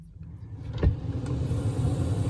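A BMW E60 sedan starting, a brief crank and catch at close range, followed by a steady idling engine hum.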